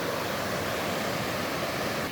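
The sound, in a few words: fast-running high river water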